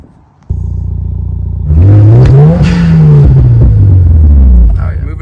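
A Subaru WRX with a Cobb resonated high-flow cat downpipe idles loudly, then revs up sharply, rising to a held high-rpm drone and falling back, close and aggressive.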